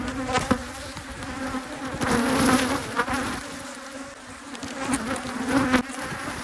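Honey bees from a hive that has swarmed buzz densely and loudly up close, a steady drone with individual insects zipping past the microphone, with no talking.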